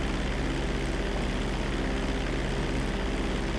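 Airplane flying in Grand Theft Auto V, a steady propeller engine drone holding level and close throughout with no voices over it.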